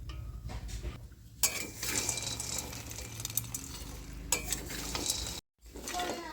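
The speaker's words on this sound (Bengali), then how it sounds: "এটা নাড়তে হবে, ভালো করে ভেজে নিতে হবে, কারণ কাঁচা আছে সমস্তটা।" Laddu ingredients dry-roasted in a pan while being stirred, a spoon scraping and clinking against the metal with a grainy rustling sizzle, close up, with brief pauses and one sudden cut to silence.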